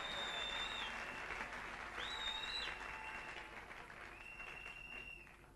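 Sustained applause from a church congregation, a dense even wash of many hands clapping at moderate distance, with faint voices calling out over it.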